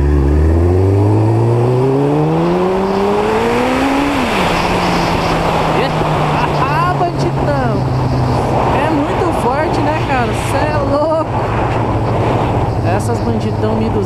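A Suzuki Bandit 1200 motorcycle engine revs up sharply and then settles into a steady, throaty idle that runs on, loud and close, with faint background noise.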